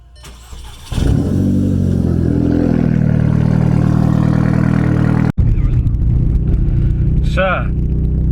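A Seat Leon Cupra Mk2 engine cranks and fires after a second of quiet, settling into a loud, steady idle close by, briefly cutting out and resuming mid-way, with a voice speaking over it near the end.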